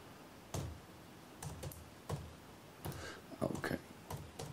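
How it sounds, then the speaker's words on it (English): Faint computer keyboard typing comes in short bursts of clustered key taps with pauses between them, quiet and close in a still room. "I'm typing this"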